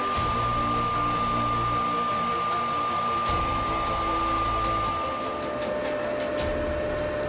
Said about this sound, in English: I'm just gonna go ahead and pass a small cleaning cut